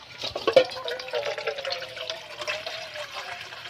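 Tap water running into a container to cover homemade bean sprouts, a close trickling and splashing stream with small drips and rising pitch as it fills.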